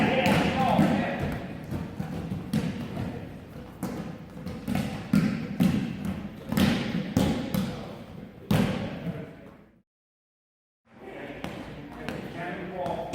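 A ball is slammed hard and repeatedly against a gym floor during a sprawl wrestling drill, a string of loud, close thuds in a quick, uneven rhythm, cut by a brief silence, with a coach's voice shouting over the impacts.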